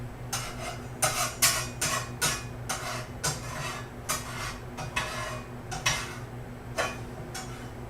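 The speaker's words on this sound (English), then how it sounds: "Metal spatula on the cast iron." A metal spatula scrapes and taps across a greasy cast iron skillet being readied for frying tortillas, a string of sharp, close metallic strokes in an uneven rhythm over a steady low hum.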